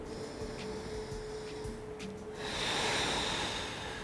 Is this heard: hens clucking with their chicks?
no